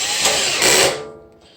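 A power driver spins a screw into a plastic mat hold-down in two short whirring bursts, close and fairly loud, then winds down to quiet.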